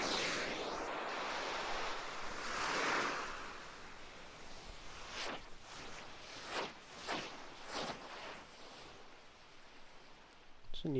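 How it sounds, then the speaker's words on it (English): Waves wash onto a beach in the Outerra game as a steady broad rush, faint and continuous, broken later by several short soft thumps. "Beach, yeah, waves in here."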